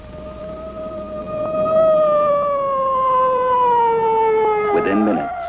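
A loud, steady ambulance siren in a 1963 animated cartoon wails and slowly sinks in pitch, with a brief voice cutting in near the end.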